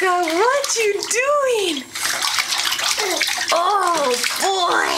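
A small child splashes water in a bathtub, a steady wash of splashing running under an adult's voice and the child's high chatter throughout.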